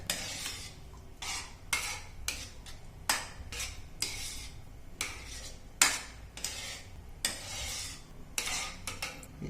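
A spoon scraping and clinking against a pan while yogurt (dahi) is stirred for dahi fry, a quiet, irregular run of close metallic scrapes and taps with no talking.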